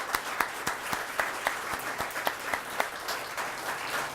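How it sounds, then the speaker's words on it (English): An audience at a primary voters forum for U.S. Congressional District 4 candidates claps steadily, with a few sharper individual claps standing out over a moderate, fairly close round of applause. "So let's give them a round of applause for coming."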